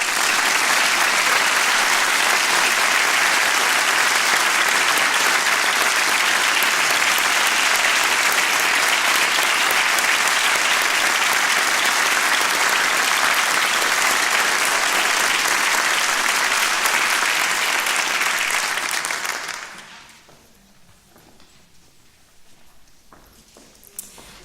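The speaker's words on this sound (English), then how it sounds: "Please join me in giving them a round of applause." Loud, sustained applause from a large audience at a city State of the City address, a dense wash of claps that stops abruptly near the end and leaves quiet room tone.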